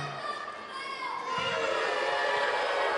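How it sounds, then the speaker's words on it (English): A capacity crowd at an NWA Mountain State wrestling show in West Virginia roars and cheers in a large room, building louder partway through, with a ring announcer talking over it. "as a capacity crowd here is firmly behind the God of all rednecks, Michael Cook"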